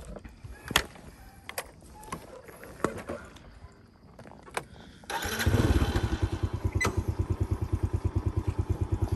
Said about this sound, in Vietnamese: Bây giờ thì tôi xin phép tôi chạy xe máy anh chị ha.